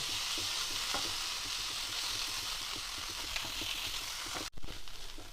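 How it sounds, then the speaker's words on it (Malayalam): Precooked tuna is stirred into a frying pan, a close steady sizzle with regular spoon scrapes and taps, briefly cut near the end before the frying resumes, no talk. "അത് ഇതിലോട്ട് ചേർത്ത് കൊടുക്കുക മിക്സ് ചെയ്തിട്ട് യോജിപ്പിക്കുക"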